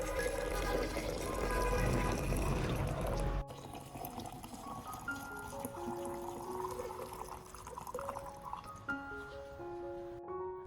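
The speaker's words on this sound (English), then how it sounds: "we will add about 500 milliliters of hot water" About 500 milliliters of hot water is poured into a solution for treating an orchid with fungal rot, with a steady rushing pour that turns into a filling trickle and drips.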